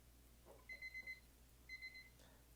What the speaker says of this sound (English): Timer's going off.